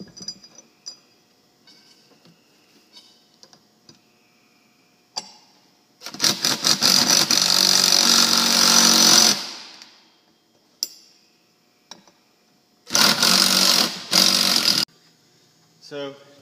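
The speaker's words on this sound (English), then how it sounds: "go ahead and do it with the impact driver, make a quick job out of it." An impact driver drives a bolt on a cafe racer motorcycle, giving a loud sustained rattling hammer burst of about three seconds, then two shorter bursts a few seconds later, with quiet workshop sounds between.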